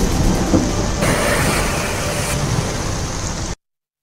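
Heavy rain with thunder over a flood-hit region of Uttar Pradesh, a loud steady roar of downpour with low rumbling, continuous for about three and a half seconds before cutting to silence.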